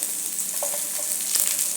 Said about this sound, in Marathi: आता तेल गरम झालं की याच्यात सुरुवातीला कांदा घालूया